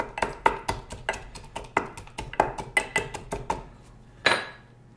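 Muddler pounding orange slice, maraschino cherries and sugar in a highball glass, about a dozen sharp, close glassy knocks in a quick, uneven rhythm, ending with a brighter clink.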